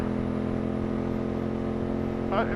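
A Ducati 916 motorcycle engine running with a steady, close mechanical drone, the throttle blipped briefly near the end.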